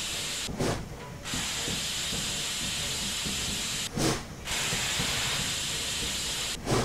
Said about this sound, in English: Cylinder drains are open.